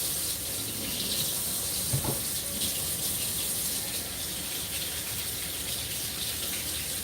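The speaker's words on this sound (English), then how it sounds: "Let me wash my hands." Hands being washed under a running water tap after handling chickens, a steady close rush of flowing water with a brief louder splash about two seconds in.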